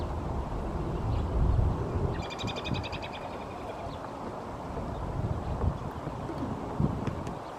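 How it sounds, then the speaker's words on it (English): A hairy woodpecker gives a short burst of rapid, sharp call notes outdoors, heard for about a second against steady wind noise rumbling over the microphone. "It's a hairy woodpecker."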